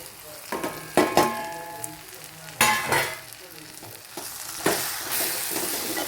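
Spice powders hit sautéed onions in a pan for an egg curry, giving a steady frying sizzle with sharp bursts of louder crackle and stirring scrapes spaced every second or two, close and fairly loud with no talk.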